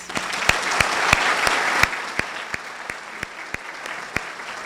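A room of guests at a leadership awards breakfast gives a round of applause, a dense crowd clapping that fades out while a few louder, evenly spaced individual claps continue nearby.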